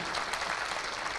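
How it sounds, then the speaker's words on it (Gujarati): An audience at a school motivational talk for parents and students applauds to welcome a speaker, a dense, steady wash of clapping from many hands, with no distinct voices. "તાળીઓથી વધાવીએ."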